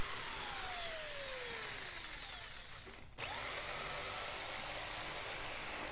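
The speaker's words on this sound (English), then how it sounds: "then just use a jigsaw to cut out the outside shape" Jigsaw cutting a ghost outline out of a piece of pine, a continuous buzzing rasp of the reciprocating blade, close and steady, with a brief stop and restart midway.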